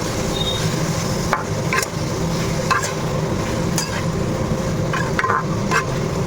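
Food frying in oil in a pan makes a close, continuous sizzle, broken by scattered scraping and clicking as it is stirred.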